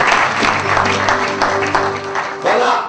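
Church congregation applauding at an evening assembly, a dense steady wash of clapping that runs the whole clip with a fresh swell near the end, while crowd murmur and a faint voice sit beneath it.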